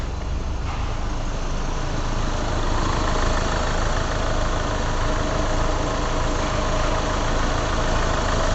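A car engine idles steadily and loudly with oil pressure and exhaust smoke normal, a continuous even rumble with faint knocking texture, no voices.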